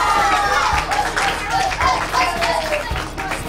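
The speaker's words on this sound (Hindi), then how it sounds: "ताली बजाइए" An audience claps on request during a children's show episode, a short burst of scattered hand claps mixed with voices and background chatter.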